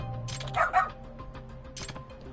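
A dog in the video game Lost Judgment gives a couple of short yips or barks, one quick pair early and another brief one later, fairly faint over quiet background.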